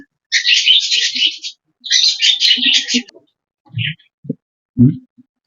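Two long bursts of high, raspy chirping from five lovebird chicks up close, followed by a few quiet low thumps and short sounds.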